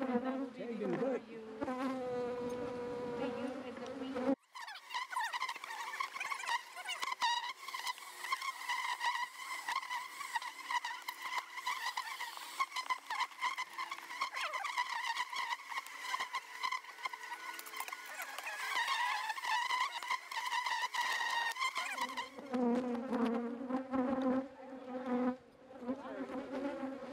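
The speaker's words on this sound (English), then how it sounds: "when dealing with an Africanized hive of bees, the bees are really mean and they do attack you if you get near them" Africanized honey bees swarm around an open hive, a dense sustained buzz of many insects close by, dropping out briefly before resuming loud and steady.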